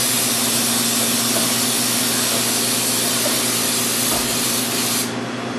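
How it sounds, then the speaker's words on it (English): A continuous loud hiss of aerosol baking spray with flour, sprayed into a cake pan, runs for about five seconds, then cuts off abruptly. "she sprays it again with Pam baking spray, which has a flour in it"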